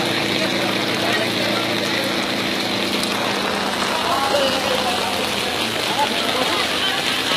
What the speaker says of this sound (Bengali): খুব বেশি বৃষ্টি হচ্ছে